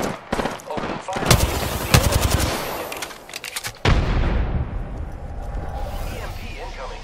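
Gunfire in the video game Apex Legends, loud rapid bursts of shots in close succession, then a heavy impact followed by a roaring rush that fades out; voices are heard among the shots.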